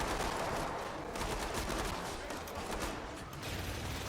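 Gunfire in the video game Killing Floor 3 rattles in a dense, continuous barrage of rapid shots, loud and close with little pause across the few seconds.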